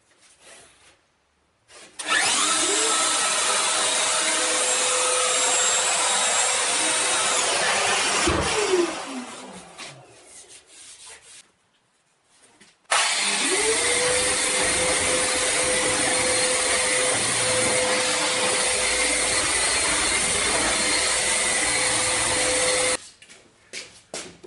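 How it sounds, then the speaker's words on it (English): A power sander whirs against the edges of a wooden countertop in two long, loud, steady runs separated by a short pause, each spinning up and winding down. "smooth finish with the sander."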